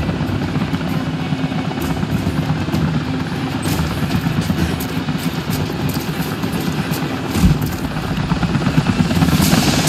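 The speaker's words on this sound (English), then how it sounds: "Jacob, helicopters are headed your way" Helicopter rotors and engines drone steadily in Rise of the Tomb Raider gameplay at the Acropolis, a dense continuous whir with rising intensity near the end, loud and sustained with no talk.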